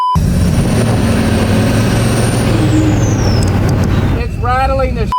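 A monster truck with a bent brake rotor rattles and roars loudly while driving, a dense continuous mechanical clatter with a high whine sliding downward, and a voice breaks in over the noise near the end.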